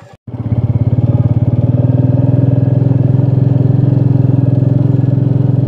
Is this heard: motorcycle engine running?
yes